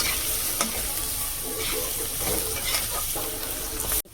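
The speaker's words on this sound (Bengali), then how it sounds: "মশলাটাকে একটু ভেজে নেব।" A spice masala fries in a pan for a fish curry, giving a loud, continuous sizzle with soft, irregular stirring scrapes and clinks close by, and no one speaking.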